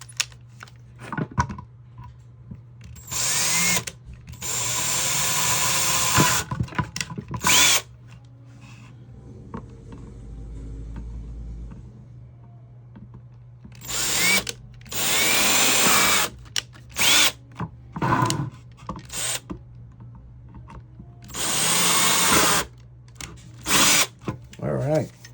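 A power drill bores holes in a DIY Valentine's Day gift, several loud whirring bursts close by, separated by quiet pauses and some handling sounds, with a person talking in between.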